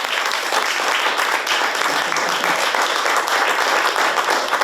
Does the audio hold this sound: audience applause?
yes